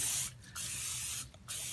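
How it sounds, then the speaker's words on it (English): Store-brand vegetable oil cooking spray hisses out of a can in two short, close bursts. "so you take your vegetable oil, and this is you spray it on"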